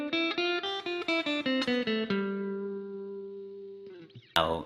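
Guitar with effects and slight distortion picks a G Mixolydian scale up and back down in quick even notes, then lets the last note ring and fade before a sharp scrape of noise at the end.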